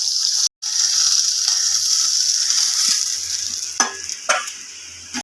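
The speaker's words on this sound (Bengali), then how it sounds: "মাছের মাথাটা লাল করে ভেজে নিয়েছি" A hilsa fish head frying in oil gives a steady, loud bright sizzle that hisses continuously, broken by a short gap and later by a couple of clinks and stirring scrapes.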